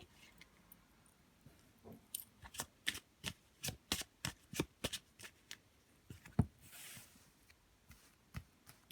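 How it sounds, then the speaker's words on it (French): A deck of tarot cards is cut and shuffled close up, giving a quick run of crisp riffling flutters and slaps that thins out toward the end, with no talking. "donc je vais couper le jeu."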